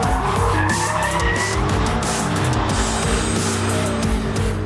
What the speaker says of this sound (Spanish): cuando va en modo 2 ruedas motrices, con el M5 puede pasarse la chicane más o menos así